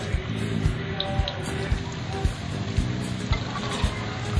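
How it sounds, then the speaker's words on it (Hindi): Pakora fritters frying in oil over medium heat for a Punjabi kadhi pakora, giving a steady close sizzle with scattered crackles and soft pops throughout. "और अब हम इन्हें दरमियानी आंच पर पकाएंगे तकरीबन 1 से 2 मिनट तक"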